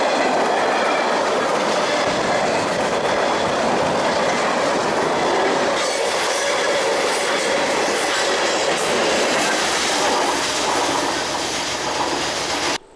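Freight train with CNW hopper cars rolling past trackside after rain, a loud continuous rumble with rhythmic clickety-clack of wheels and faint wheel squeal, close and steady before easing near the end.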